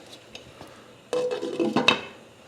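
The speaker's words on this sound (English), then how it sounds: "I'm going to put the top on." A metal lid is set onto a pot of asparagus soup on the stove, a loud clattering scrape followed by a few ringing knocks as it settles into place.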